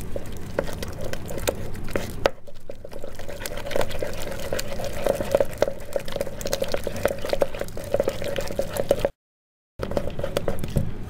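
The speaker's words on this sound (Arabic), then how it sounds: "وهنبدأ نقلب" Eggs and half a teaspoon of vanilla are stirred into choux pastry dough, giving a steady wet, squelching, slapping texture with rapid soft patter throughout, close and moderately loud, briefly cut out twice.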